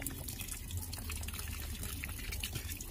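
Water splashes and trickles steadily onto a young papaya plant in a home vegetable garden, a continuous close wash of pouring liquid with no talking.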